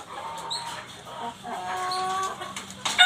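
Cemani chickens on a poultry farm give soft, scattered clucks and short calls over a low background hum, with a louder burst of squawking right at the end.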